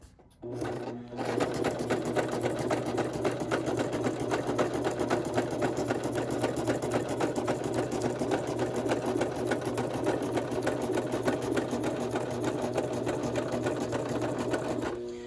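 Sewing machine stitching through a scrapbook page kit, a rapid steady mechanical whir close up that starts after a brief stop-start and runs continuously to the end.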